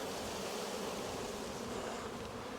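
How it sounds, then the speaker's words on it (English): Honey bees buzz in a faint, steady swarm hum as they are shaken off a frame of drawn wax holding a little nectar. "I'm gonna go ahead and shake them bees off."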